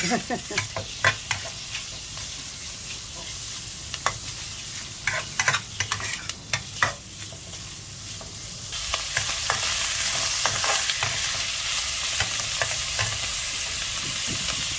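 Beans are stir-fried in a pan with repeated close scraping strokes of a spatula over a sizzle, then a louder, steadier hiss of frying takes over for the final stretch.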